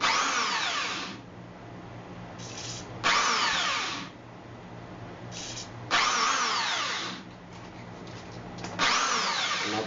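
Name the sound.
drill running on exhaust fan while oiling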